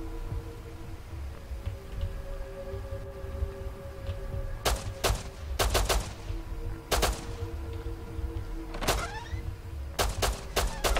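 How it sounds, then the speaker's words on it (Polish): Gunfire in the survival game Rust cracks out in sharp separate bursts of single and doubled shots, with some shots spaced apart, over a steady low ambient drone and faint tonal hum. "Strzelają do wszystkiego, co popadnie gnojki."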